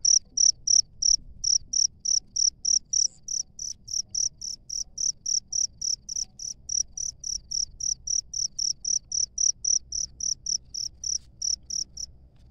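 A cricket chirps in a steady, regular rhythm, dozens of high, shrill pulses close by against a quiet background.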